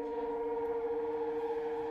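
Music of Prowler's theme from Spider-Man: Into the Spider-Verse, a sustained droning, siren-like synth tone holding steady at low level throughout, with no voices over it.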